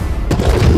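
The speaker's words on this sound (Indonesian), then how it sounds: "Seseorang bernama S memberitahukan dirinya akan melemparkan granat kejut" A stun grenade in the Arknights anime goes off as a sudden loud blast partway through, followed by a dense rumbling roar, close and with no voices.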